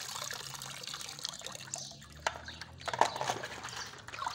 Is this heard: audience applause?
no